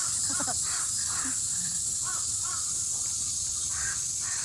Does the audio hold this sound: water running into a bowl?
no